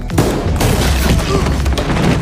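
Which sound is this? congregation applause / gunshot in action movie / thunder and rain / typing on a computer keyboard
gunshot in action movie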